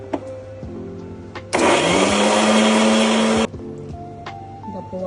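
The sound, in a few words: mixer grinder grinding radish for chutney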